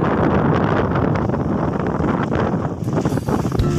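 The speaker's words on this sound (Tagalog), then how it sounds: "Iniihipan ng hangin." Strong wind roars steadily across the microphone while kayaking on a rainy day on the way down from a mountain, a loud continuous buffeting rush with no voices.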